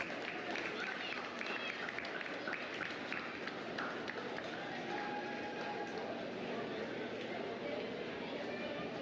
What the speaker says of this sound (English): So one more time for you guys to get a round of applause.